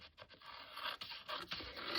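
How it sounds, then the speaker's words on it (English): Scissors fussy cutting around paper ephemera, a series of faint close snips and scraping rustles in uneven rhythm, quiet and with no voices. "I'm just gonna cut this out so it makes it easier."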